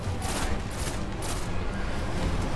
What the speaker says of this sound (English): So those missiles that are firing at me, that's the boss